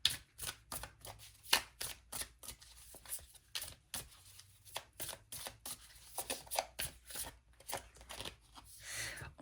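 Tarot cards are shuffled and drawn in a quiet room, with rapid, irregular flicks and riffles of card stock close by and short pauses between bursts.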